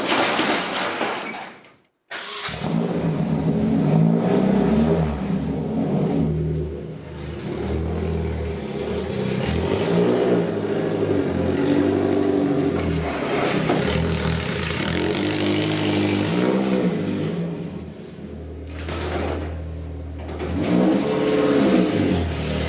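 A 240 drift car's engine revs loud and close as the car is moved, holding a rough mid-range drone with repeated throttle swells and a short cut near the start.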